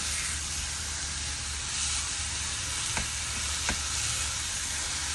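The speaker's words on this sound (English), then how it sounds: "I'm taking a pound of lean ground beef, and I'm gonna just sort of mash it down into my pan" A pound of lean ground beef mashed down into a pan sizzles in a steady, hissing fry, close and constant, broken by a couple of sharp scraping taps with no speech.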